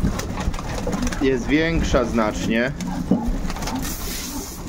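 Young pigeons in a loft, recently given a live Salmonella and pox vaccine, coo softly beneath a man's close, continuous speech.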